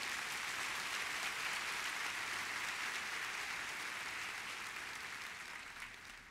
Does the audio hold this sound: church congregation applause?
yes